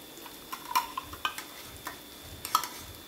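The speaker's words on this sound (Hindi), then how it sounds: "अब इसे अच्छे से चलाते हुए मिक्स करेंगे" Fresh curd is stirred into cooked tomato masala in a pan. Faint, irregular spoon scrapes and light metallic clicks sound over a quiet sizzle.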